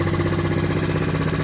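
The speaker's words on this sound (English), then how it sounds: "Got it idling." A GY6 scooter engine, freshly carburetor-tuned, runs at a steady fast idle near 2,000 RPM, with an even, pulsing putter close to the listener.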